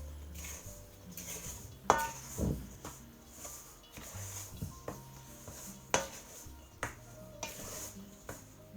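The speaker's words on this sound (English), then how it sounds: "I'm just using the rice paddle to scrape the flour off the sides and then mix it back into the dough." A rice paddle scrapes and stirs pizza dough in a bowl, making soft, faint scuffs and a few sharper knocks against the bowl at close range, with no talk.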